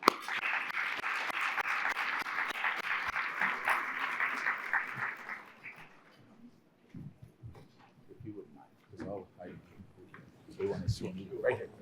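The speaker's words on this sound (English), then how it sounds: "let's give a big round of applause for our panel and U15 colleagues." Audience applause for a panel at a science policy conference, a dense steady clapping that fills the first six seconds and then fades out, followed by scattered voices, movement and talk.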